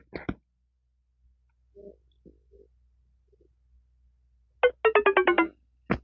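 A Boat Nirvana Bluetooth headphone plays its power-off tone, a rapid descending series of about six electronic beeps, held right up to the mic after a few faint clicks of handling.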